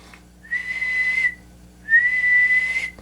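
Two steady, piercing whistled tones into a microphone on a Browning 180 amplifier, each held about a second with a brief pause between, loud and close against a quiet hum.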